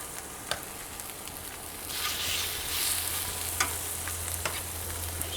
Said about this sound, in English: I'm going to go ahead and put my steaks on one side here